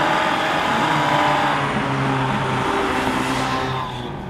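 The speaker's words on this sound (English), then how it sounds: "That's how you get that lumpy V8 American V8 sound." A Cobra-blown Lexus V8 fitted with 180-degree headers in a 1975 Toyota Corolla runs loud and close with a lumpy, throbbing tone that fades slightly at the end.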